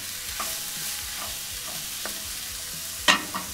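Frozen peas, onions and other vegetables sauté in a pot, a soft steady sizzle broken by rhythmic stirring scrapes and a sharper clatter near the end.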